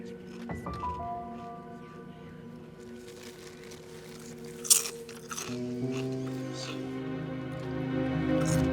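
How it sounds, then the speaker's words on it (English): A person crunching chips aboard a waiting aircraft before takeoff, close crisp bites and chewing in irregular bursts over a steady cabin engine drone, with one sharp loud crunch midway. "Can you stop crunching?"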